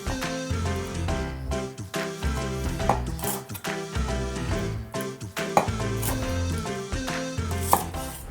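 A knife halves Brussels sprouts on a cutting board in quick, uneven runs of sharp thuds with short pauses between batches, close and clear with no talking.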